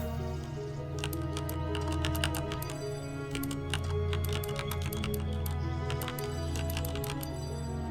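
Steady rapid keystrokes on a computer keyboard while playing the Nanotale typing game, with busy game music and sound effects running underneath the whole time.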